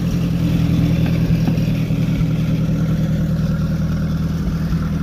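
A nearby Oliver 550 tractor with a freshly replaced clutch drives past, its engine giving a loud, steady low rumble that holds nearly constant throughout.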